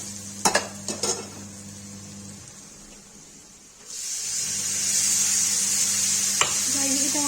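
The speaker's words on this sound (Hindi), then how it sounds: "इसमें जाके के लाल मिर्च डाल देंगे, हल्दी डाल देंगे, इसको चला देंगे अच्छे से।" Red chilli and turmeric stirred into a sizzling brinjal curry, a few quick spatula clatters against the pan followed by a loud, steady hiss of frying that swells midway.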